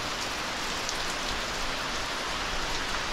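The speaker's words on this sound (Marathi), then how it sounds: "मुसळधार संततधार असा पाऊस पडतो आहे" Heavy monsoon rain pours onto the clay-tiled roof of a village house, a dense, unbroken hiss that holds loud and even for the whole stretch with no voices.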